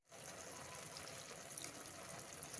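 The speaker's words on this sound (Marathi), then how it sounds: "अजून एकदा छान पाणी टाकून छान कोळून" Water trickles and splashes onto tamarind as it is squeezed for pulp, a soft continuous pouring with small wet spatters, faint and close, with no talking.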